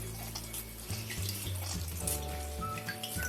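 Water trickles and drips as bread soaked in water is squeezed out by hand while making bread chicken balls, with soft wet splashes and a faint running-water sound at close range.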